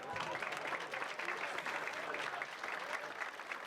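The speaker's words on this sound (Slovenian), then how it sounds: "Anja Sedevčič-Lasič in Blanka Jamšek, ki jim gre en velik aplavz." Steady applause from a crowd at a May Day celebration in Opatje selo, continuous clapping filling the whole stretch without pause.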